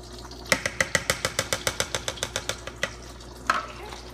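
A spoon stirs melted cheese sauce for macaroni and cheese in a pot, making a quick, even series of about fifteen sharp scraping knocks with a gap and a final louder clack.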